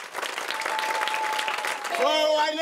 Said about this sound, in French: Applaudissez tous ensemble.